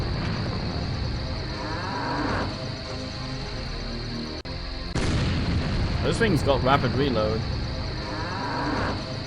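Cows moo in The Journeyman Project 2: Buried in Time video game, sounding repeatedly over a steady electronic hum, with a loud burst midway and someone speaking over the later part.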